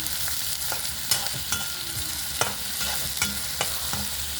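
Chopped onion frying in a pan with a steady crackling sizzle, punctuated by occasional sharp scrapes and taps of a spoon stirring, close and fairly loud with no voices.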